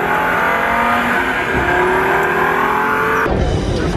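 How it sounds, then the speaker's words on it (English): An Audi TT engine revs hard at the LA Auto Show, a loud, sustained rising roar with a tire-squeal edge that cuts off sharply near the end. "let's see what our TT sounds like"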